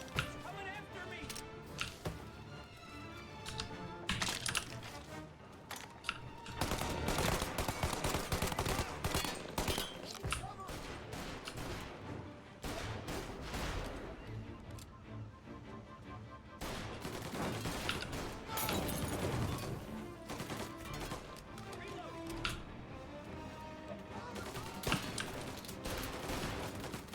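Rapid gunfire bursts and volleys from a shootout in the video game Mafia: Definitive Edition, loud and continuous for the whole stretch with overlapping shots, occasional voices speaking underneath.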